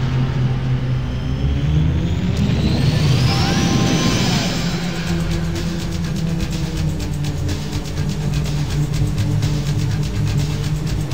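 Aircraft taking off in the DOS game Angel Devoid: a steady, loud engine roar that swells and rises in pitch over the first few seconds, then holds as a continuous drone to the end, with no talk over it.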